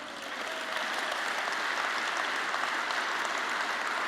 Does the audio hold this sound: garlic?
no